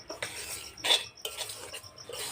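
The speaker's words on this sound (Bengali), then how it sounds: "সুজিটা আমি হালকা জাল দিয়ে একটু নাড়াচাড়া করে নেব" Semolina roasting in ghee over low heat is stirred with a metal utensil, giving a few short scraping strokes and clinks against the pan, close and fairly soft.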